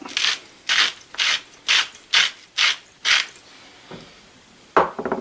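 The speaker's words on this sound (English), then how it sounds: "Crank in some salt." A salt mill is cranked to grind salt for a venison steak sauce, giving about seven evenly spaced, close, rasping grinding bursts, then a short pause and one more burst at the end.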